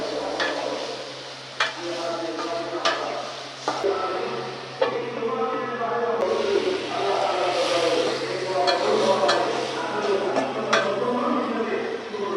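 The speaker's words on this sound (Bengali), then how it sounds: "মশলাটা আমার কষানো হয়েছে, এবার আলুগুলো দিয়ে দিলাম।" Potatoes tossed into cooked-down spiced masala for a Bengali fish and potato curry fry with a steady broadband sizzle, punctuated by occasional sharp clanks of a spoon against the pan throughout.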